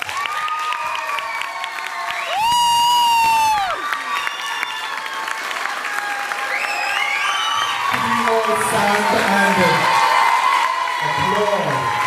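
Audience at a school graduation claps and cheers after a valedictorian speech, with whoops and youthful shouts rising over the applause, while a tonal musical or electronic sound plays briefly early on and loud voices ring out near the end.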